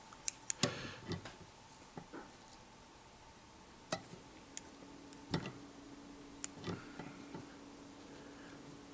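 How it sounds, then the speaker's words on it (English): Small scissors trim the gills of a pheasant tail chironomid midge larva fly at a tying bench, giving a few sparse, sharp snips and ticks, close but quiet, with soft handling noises between them. "Then we can trim these gills."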